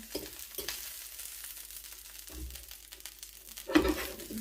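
Salmon fillets frying in oil in a pan, a soft continuous sizzle with occasional louder crackles and a brief burst near the end, heard up close without talking.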